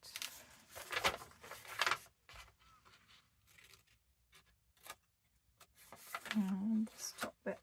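Soft snips and paper rustles from cutting paper for a craft page with ephemera pockets, faint and intermittent beneath a person talking quietly throughout.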